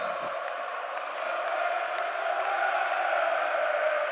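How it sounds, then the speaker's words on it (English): A PAOK crowd at a volleyball match roars and cheers steadily in a big hall, a dense sustained wall of voices that swells slightly toward the end. "that has really got this PAOK crowd excited"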